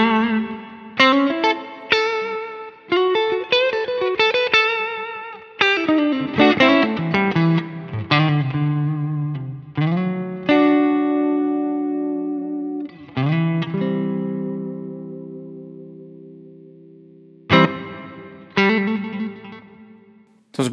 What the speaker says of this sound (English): And I'm going to engage now a Cheerio Tone Centura, like a clone.